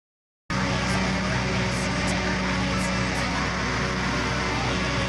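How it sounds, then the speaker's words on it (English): A fuzzy, heavily distorted black metal track plays as a dense, continuous wall of loud noisy guitar and drums after a brief silent start. No voices speak over it. "The first song has a very fuzzy and distorted black metal sound"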